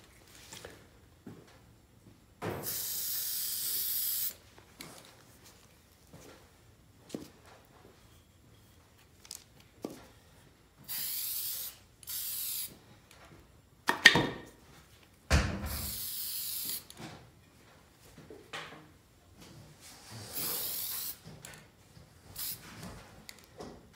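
Interior polyurethane finish sprayed from an aerosol can onto a handmade hatchet and axe handle, several short hissing bursts separated by quiet gaps and small handling knocks.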